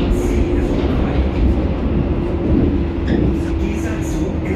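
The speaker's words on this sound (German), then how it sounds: "This train terminates here." Berlin U-Bahn train of the H01 type running between Alt Tempelhof and Alt Mariendorf, heard from inside as a loud, steady rumble and hum of the car in motion, with no clear talk over it.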